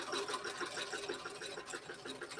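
A sewing machine fitted with a Bernina Universal needle runs in a steady, fast stitching chatter, close and fairly quiet, with no voices over it.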